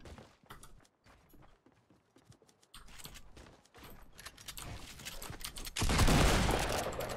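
Gunfire in a Fortnite gunfight crackles in rapid bursts and scattered shots, growing louder and denser toward the end, with no one talking.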